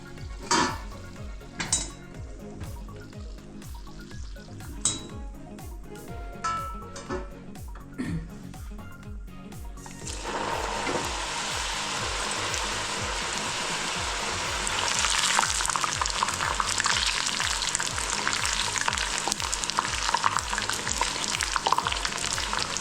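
Cheeselings crackle and sizzle as they fry in hot oil, a steady loud bubbling that swells after a few clinks of a utensil against the pan.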